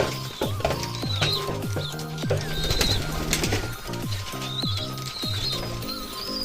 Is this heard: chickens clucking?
no